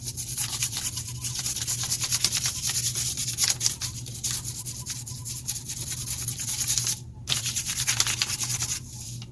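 A crayon is rubbed steadily across paper laid over a texture plate for a first grade art texture rubbing, giving continuous close scratchy strokes in a quick back-and-forth rhythm with only brief pauses.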